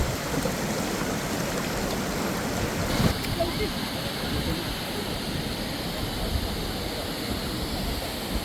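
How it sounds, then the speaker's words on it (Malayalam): A mountain stream in Salalah rushes downhill toward a waterfall, giving a constant broad roar of flowing water that stays loud and unbroken, with a faint bump partway through. "ഇവിടെ നിന്നാണ് വെള്ളം ഒഴുകി താഴത്തേക്ക് പോകുന്നത്"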